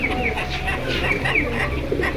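A big pair of pigeons from a new 2026 collection coo close by in soft, overlapping throaty phrases, steady and moderately loud against light background hiss.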